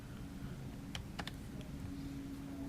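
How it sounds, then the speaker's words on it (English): A handful of quick keystrokes on a computer keyboard, a short burst of close, crisp clicks over a steady low room hum. "you can type stuff in here. And I'm going to type in grunge."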